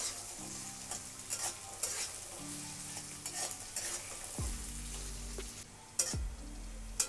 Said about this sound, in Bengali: এবার ভালো করে আমি একটু লাল করে ভেজে নেব